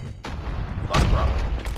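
A grenade explodes in Call of Duty Mobile: a loud, close boom about halfway through a short burst of gunfire and battle noise.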